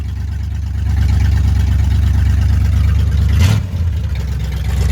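A cheap small block Chevy V8 runs loud and close after starting, a steady low rumbling idle with a brief rise and dip partway through.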